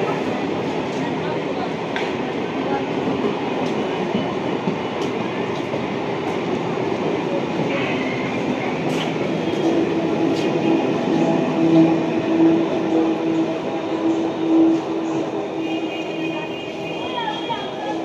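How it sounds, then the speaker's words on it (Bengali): A 12-coach Barasat–Sealdah local train rolls through Madhyamgram station and curves onto the loop line, a steady rumbling roar with rail clatter and faint squeals throughout, while people talk nearby. "দেখুন ট্রেনটা এখন ডান দিকে সরে যাচ্ছে, এটা হচ্ছে লুপ লাইনেও উঠছে।"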